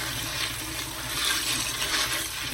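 Dry beans rinsed under a running kitchen tap: a steady, close rush of water spraying and splashing for the whole stretch, with no talking.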